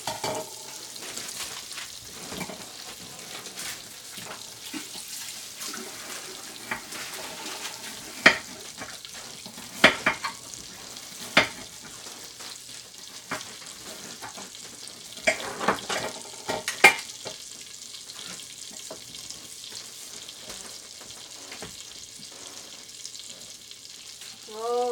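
Bacon frying in an Instant Pot, a soft continuous sizzle punctuated by sharp clinks and scrapes of stirring against the pot, close and moderately loud, with no voices.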